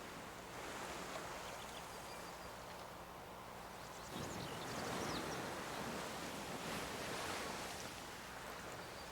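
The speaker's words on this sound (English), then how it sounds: "Just the sound of the ocean." Soft ocean surf from Civilization VI washes in a continuous, gentle roar, swelling slightly partway through, with no voices.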